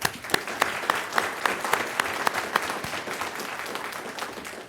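A room at a city council meeting claps for a veteran being honoured, with steady, dense applause and sharper individual claps standing out near the front, continuing unbroken throughout.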